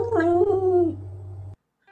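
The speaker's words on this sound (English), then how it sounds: "I swear that cat just went doopa doopa" A cat gives one drawn-out, wavering meow close by over a steady low electrical hum. It ends abruptly and is followed by silence.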